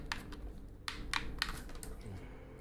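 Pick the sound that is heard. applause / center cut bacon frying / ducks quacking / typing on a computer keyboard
typing on a computer keyboard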